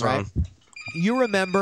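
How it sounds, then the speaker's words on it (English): A telephone rings during a call-in show, its harmonic electronic tones sounding in short bursts beside and under a man's speech. "That was the phone going off."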